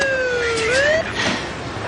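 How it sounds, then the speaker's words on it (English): An ambulance siren wails at close range, its tone sweeping and then jumping to a higher pitch, loud and alone with no talk over it. "Look, Simone, the ambulance is right here."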